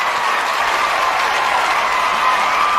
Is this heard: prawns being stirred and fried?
no